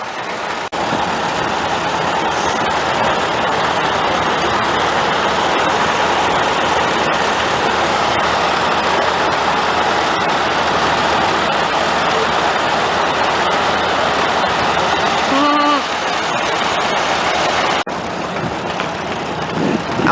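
Antique tractor engines at an Old Iron Club parade run in a steady, loud, continuous drone throughout, with a brief burst of higher sound near the end over the constant rumble.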